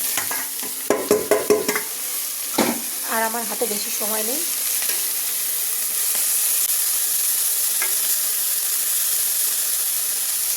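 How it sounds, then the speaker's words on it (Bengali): Onion, chili and garlic fry in oil in a pan with a steady, close sizzling hiss; a burst of utensil clatter comes early, and a voice speaks briefly over it. "এখানে পেঁয়াজ লঙ্কা এখানে রসুন দিয়ে এখানে ভাজা করছি"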